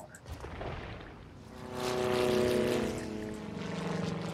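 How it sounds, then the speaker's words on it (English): Airplane noise from a nearby airport swells into a loud engine roar that peaks midway, then settles into a lingering drone, with no speech. "Sorry about all the plane noise."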